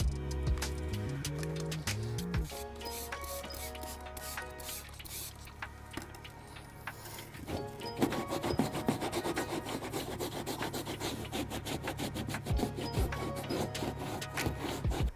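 Steady scrubbing and rasping as years of built-up debris are rubbed off a car's rear bumper fascia, close and continuous with scattered sharp scrapes and taps.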